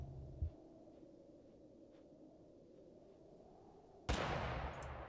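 Hip-fired gunshots in the game Totally Accurate Battlegrounds: a short, dull shot early on, then after a quiet stretch a loud, sharp blast that rings out to the end.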